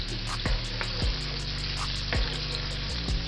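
Pre-cooked shrimp fry in a pan with a steady loud sizzle, punctuated by a few soft knocks as pieces are placed or shifted, close and without talk.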